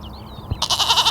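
A single goat bleat, short and close, following a moment of quieter high chirping.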